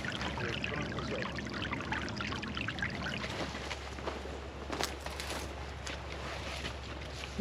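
Water from a natural spring flows and trickles steadily, a close, continuous rushing wash with occasional splashy bursts.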